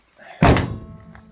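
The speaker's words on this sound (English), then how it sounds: "the door shuts perfect as well" A classic air-cooled Volkswagen car door shuts with one solid, close thunk that fades out quickly.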